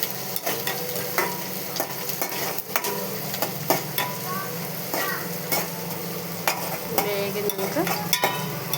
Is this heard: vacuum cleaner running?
no